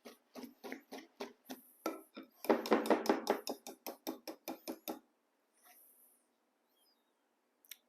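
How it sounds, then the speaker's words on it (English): Banana bread batter gets whisked in a bowl with a rapid series of close, rhythmic taps and clacks, speeding into a dense flurry before slowing and stopping, then near quiet. "And we're going to whisk that too."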